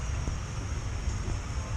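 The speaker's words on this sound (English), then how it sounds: "It's the jet engine fired up again." A distant jet engine at a steam rally drones with a steady low rumble and thin high whine, continuous and unbroken, with no voices.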